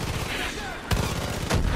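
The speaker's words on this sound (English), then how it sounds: "but I can drop a mortar" Mortar strikes in the first-person shooter Far Cry 5 land as two sharp, heavy booms about half a second apart, each with a rumbling tail, over a dense background of game noise.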